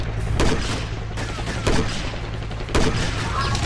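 Loud gunfire in the shooting game Code of Honor, three sharp close bursts of shots spaced over a few seconds above a constant low rumble.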